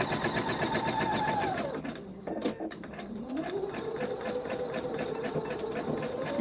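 A home sewing machine runs steadily as it stitches fabric up to a point under the presser foot tip. The hum briefly drops and pauses midway, then starts again and continues evenly near the mic.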